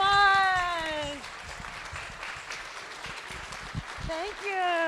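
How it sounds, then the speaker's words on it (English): At a live stage show, a voice is heard briefly at the start and end, and between them an audience claps in a steady patter of moderate, fairly distant applause. "How about a how about another round of applause?"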